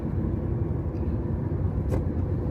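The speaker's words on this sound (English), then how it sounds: "So I gotta wait for that car." A car goes by on a small-town road, a steady low rumble of engine and tyre noise that holds throughout at moderate loudness with no talking.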